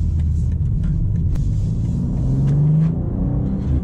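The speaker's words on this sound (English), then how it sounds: "Strong pull with that turbocharged engine" A 2023 BMW M2's turbocharged engine with manual gearbox rumbles and pulls steadily under acceleration, the low drone rising slightly in pitch, heard from inside the car at night.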